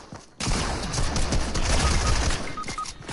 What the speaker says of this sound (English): Yes, an SMG, my favorites.